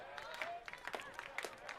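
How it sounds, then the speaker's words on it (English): Baseball fans clapping in the stands: scattered, uneven applause from a crowd, fairly faint and distant, with some voices mixed in. "Again, the fans up and clapping."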